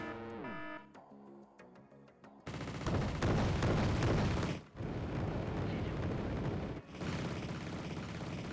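Mortar fire support explodes close by in the military shooter Arma 3, with heavy rumbling blasts that follow a short musical cue and sustain loud impacts and debris crashing, broken by brief gaps.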